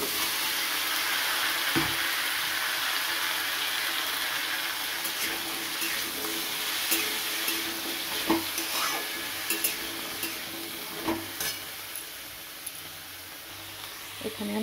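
Vegetables with chopped onion fry in a little oil in a pan for spinach chorchori. A steady, bright sizzle runs throughout, broken by intermittent knocks and scrapes of stirring.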